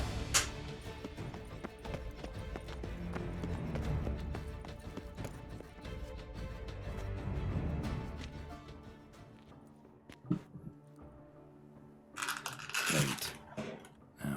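Hoof clip-clop from the horse Roach in The Witcher 3 runs steadily under dense game music and ambience, with a few sharper crunches and louder bursts near the end.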